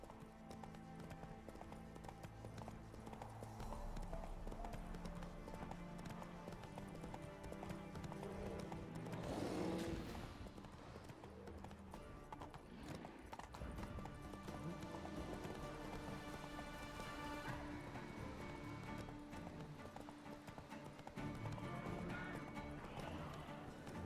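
Roach, the horse in The Witcher 3 game, gallops with a continuous rapid clip-clop of hooves, close and steady, with a whinny in the middle and light rain-like noise beneath.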